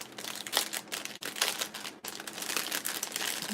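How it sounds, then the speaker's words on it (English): Crinkly plastic wrapping being pulled off an individually wrapped resin mold, a close, busy rustle and crumple with brief pauses, no talking. "All right, so let me go ahead and unwrap this first."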